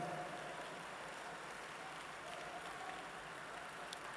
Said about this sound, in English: clap your hands and command it